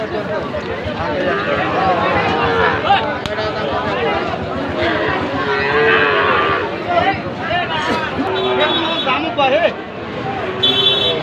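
A Sahiwal bull calf for sale at a cattle market moos several times, its calls rising over nearby people talking and haggling.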